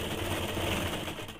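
A sewing machine runs steadily, stitching a waistband band onto a heavy petticoat, its motor hum continuous and close throughout the short stretch with no voices.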